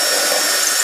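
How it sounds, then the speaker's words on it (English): A power drill whines continuously at high speed, boring through pre-drilled holes to mount a shelf, a loud, close, steady drone with no speech over it. "I'm going to drill through those holes that I've just drilled"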